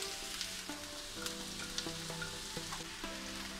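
Onion fries in a hot pan for beef stroganoff, giving a soft, steady sizzle with small crackles over a faint tonal background.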